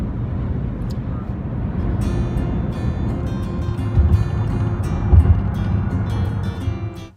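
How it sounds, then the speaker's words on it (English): A car drives through St. Louis on a long road trip from Colorado to Virginia, with a steady, loud engine and road rumble heard from inside the cabin and faint higher rattles partway through. "the footage you just saw was us driving through St. Louis"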